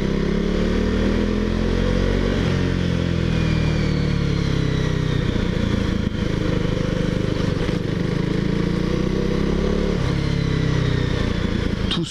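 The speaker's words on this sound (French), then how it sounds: "avec le pot d'origine" A KTM Duke 390 motorcycle with its stock exhaust drones steadily nearby, its engine pitch rising and falling as it rides along.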